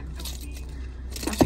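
A Toyota Tundra key fob jangles briefly near the end, a quick close metallic clink of keys after a quiet stretch of room tone.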